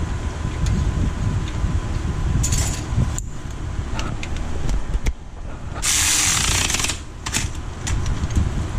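Socket wrench ratcheting on a Volvo XC70 front strut nut, rapid clicking bursts close up over background noise, with a short rattling stretch midway.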